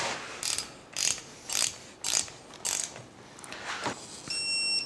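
A torque wrench ratchets in five or six short, close bursts while tightening a bolt on a motorcycle rake kit to 28 foot-pounds, followed by a faint high click or tone near the end.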